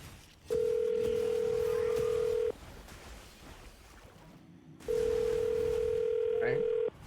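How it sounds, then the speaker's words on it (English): A telephone line tone sounds while a number is dialed: two loud, steady, buzzing tones, each about two seconds long, separated by a quieter gap with faint background noise. "I'm gonna dial the phone number right now."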